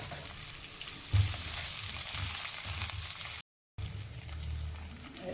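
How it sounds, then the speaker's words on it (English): Whole cardamom, clove, cinnamon and star anise frying in hot oil for a spicy mutton dish, giving a steady close sizzle with a brief break, no voices. "Now as you can see, it's nicely frying."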